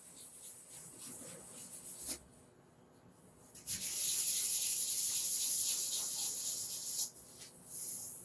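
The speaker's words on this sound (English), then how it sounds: "Just a little bit of sanding." Rhythmic, close hand-sanding strokes on a wooden outfeed table: short scratchy rubs, a brief pause, then a long sustained bout of gritty sanding before a few more strokes.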